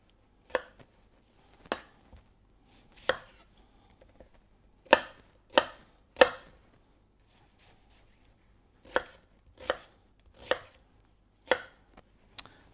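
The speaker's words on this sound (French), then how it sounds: "Selon la grosseur de l'oignon, on donne plus ou moins de coups de couteau." Knife chopping an onion into fairly large pieces for an aromatic garnish, sharp irregular blows on a board, about a dozen clear strikes spaced out, close and alone.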